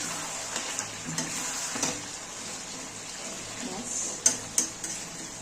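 Chicken curry with potato, Bengali style, being stirred in a pan after broth is added, giving soft scrapes and a few sharper metallic clinks of a spoon on the pan over a low steady simmering hiss.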